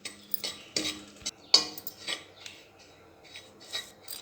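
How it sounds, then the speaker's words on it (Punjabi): Semolina roasting dry without ghee in a pan on a gas flame, stirred with a metal spoon in irregular scraping and rasping strokes, close and fairly quiet, with no voices. "ਹੁਣ ਆਪਾਂ ਇਹ ਗੈਸ ਤੇ ਭੁੱਜ ਰਹੀ ਹੈ"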